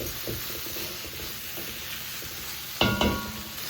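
Prawns cooking in a hot pan give a constant soft hiss of frying, then a sudden louder burst of sizzling and stirring near the end.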